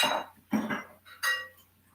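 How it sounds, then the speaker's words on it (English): Dishes clatter and clink in a sink as they are rinsed, in three short bursts of ceramic and cutlery knocks, close and moderately loud, with no talk. "Gonna rinse these dishes out, otherwise it cakes in and that's not good."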